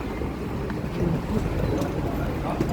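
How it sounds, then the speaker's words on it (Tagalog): Strong wind buffets the microphone in low rumbling gusts, steady and close throughout, with a faint voice underneath. "Lakas ng hangin."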